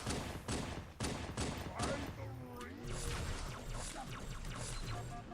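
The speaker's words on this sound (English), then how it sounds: "I like the SMG sound in this game" Rapid bursts of SMG fire from Halo 2, crackling in quick repeated volleys during the opening seconds and then giving way to mixed explosive and mechanical game noise, with faint voices in the background.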